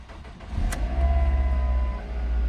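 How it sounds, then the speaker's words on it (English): A Ford Focus engine cranks and starts after an engine mount replacement, settling into a steady low idle with a faint whine, close by and fairly loud, with no talking. "I will give this car a start and see if this dashboard still does a lot of shaking and vibration noise"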